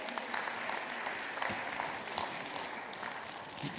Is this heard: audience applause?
yes